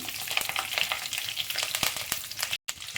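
Curry leaves and four dry red chillies crackle and spit in hot oil for a sambar tempering, a dense, close, continuous sizzle with sharp pops and no talking.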